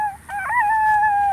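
A chicken at a plant nursery among fig, avocado, loquat and olive trees gives a sustained, drawn-out call with a rising then steady tone, close and clear, with no talk over it.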